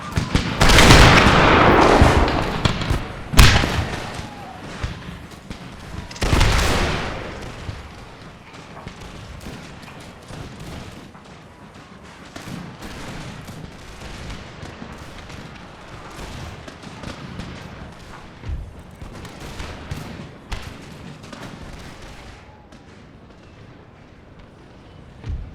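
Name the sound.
musket volley gunfire of troops in Empire Total War video game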